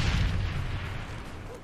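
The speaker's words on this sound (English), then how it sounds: "Tossing stun grenade!" A stun grenade detonating in the video game Modern Warfare 3, one muffled low boom that rolls off quickly into a fading rumble.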